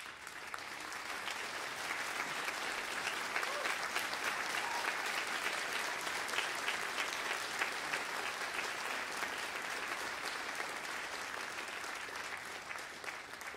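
An audience applauds veterans standing at a school district clinic choir and band concert at Northwest College, a dense, steady roar of clapping that fills the whole stretch at an even level with no talk.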